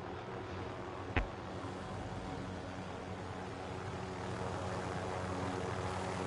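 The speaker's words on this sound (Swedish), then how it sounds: "Kom en helikopter." A helicopter in a shooter video game gives a steady, fairly faint engine and rotor drone with a single sharp thump early on, and no talking is heard.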